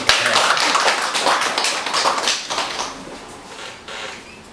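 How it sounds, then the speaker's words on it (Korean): Dense, steady applause from a lecture audience at a talk on meridians and acupoints in traditional medicine, filling the room for a few seconds and then gradually tapering off, with no voices over it. "박수 한번 주세요"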